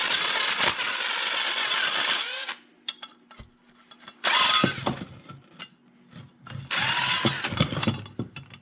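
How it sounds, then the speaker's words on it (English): A power tool whirs loudly in three bursts of about two seconds each while a suspension bolt is spun out, with quiet metallic clinks between them. "I got some vice grips on that sleeve, and now I'm going to try spinning the bolt out."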